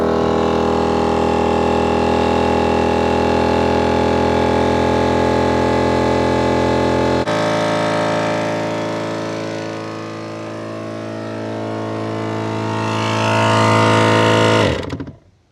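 A Kings air compressor runs loud and close while filling a car's underbody air tank, holding a steady whining drone, then dipping in pitch and swelling again before cutting off abruptly at the end.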